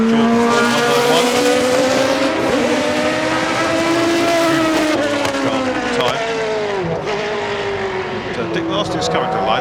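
A Jordan 191 Formula One car at the Goodwood timed shootout screams past with a loud, high-revving engine whose pitch rises and falls through gear changes, while a commentator talks over it.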